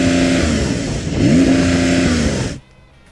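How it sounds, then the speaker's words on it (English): A Porsche 911 Turbo S engine revs hard while the car stands still, holding a loud sustained pitch, dipping briefly and then climbing again before cutting off abruptly into near silence. "This is what a 911 Turbo S sounds like when you're stationary revving it."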